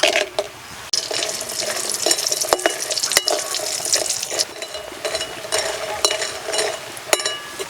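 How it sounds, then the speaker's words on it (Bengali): Lentil dumplings (bori) frying in mustard oil left from frying fish, a crackling sizzle with stirring scrapes and sharp clicks of a utensil against the pan, close and steady with no speech. "মাছ ভাজা তেলেই দুটো বড়ি ভেজে নেব"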